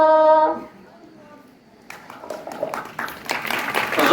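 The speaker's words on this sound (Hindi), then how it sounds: "जोरदार तालियों के साथ" Applause from an audience follows a children's patriotic song performance at an Independence Day event, beginning after a brief quiet and building into a dense, sustained clatter of many hands that grows louder toward the end.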